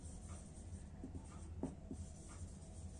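Chalk or marker scratching across a classroom board during a science lesson, a quiet run of short strokes with a few sharper taps, faint and alone with no talking.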